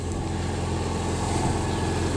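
A Generac 6kW Ecogen generator with a 500cc single-cylinder engine runs steadily outdoors in a backyard, a constant low, even drone heard up close with no talk.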